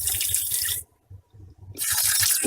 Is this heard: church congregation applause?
no